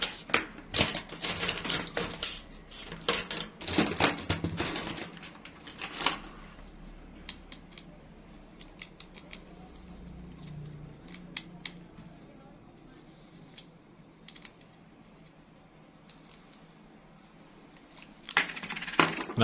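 A Daido Jigking jigging fishing reel having its handle knob unscrewed up close, with sharp small metallic clicks and clatters in bursts at the start and end, quieter fiddling in between.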